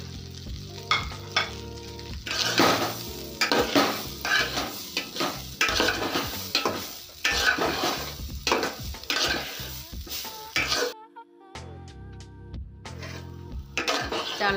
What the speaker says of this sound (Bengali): চালটা আমার ভাজা হয়েছে